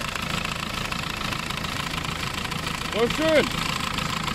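A damaged car engine idles with a steady rattling knock, running close and continuous while someone speaks briefly over it.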